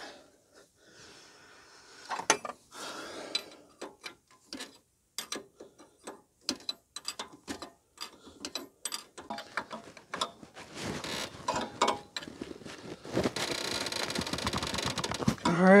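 A hydraulic hose fitting being tightened on a third-function valve kit for a grapple on a Kioti CK261 tractor, a series of close, sharp metallic ratcheting clicks and clanks, growing denser toward the end.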